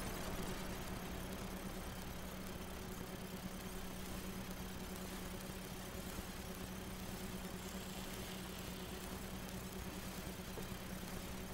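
A synthesizer preset in the auGEN X iOS app imitates an obnoxious motorcycle as a steady, buzzing engine-like drone with a low hum, continuous and fairly quiet throughout.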